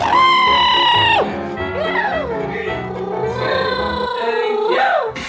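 A cat meows loudly several times, drawn-out and wavering, close to the listener with no talk over it.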